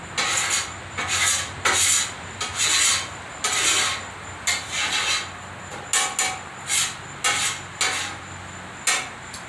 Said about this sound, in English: So we're going to scrape that old cheese off,